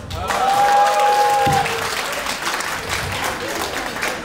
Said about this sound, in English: Everyone, round of applause for Gilbert.